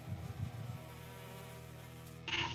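A sound effect of bees buzzing plays during a tabletop game, a steady droning hum with wavering pitch that swells louder near the end.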